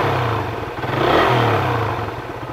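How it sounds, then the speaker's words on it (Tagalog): A Raider 150 motorcycle engine, about a year old, runs steadily nearby with a low idle rumble that swells into a brief rev midway before settling back, with no talking. "ayan yung andar ng Raider 150 natin sa loob ng halos isang taon"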